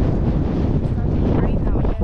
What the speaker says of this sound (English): The only thing that's consistent is the wind. It's really, really windy.